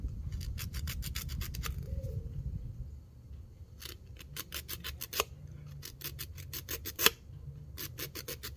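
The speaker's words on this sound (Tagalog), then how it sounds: "Ililiha lang yung portion na lagyan natin ng pandikit para kumapit ng husto" Sandpaper rubbing a broken fishing rod to rough it up before gluing, heard as quick bursts of rasping strokes in regular clusters with short pauses between them, close and fairly quiet.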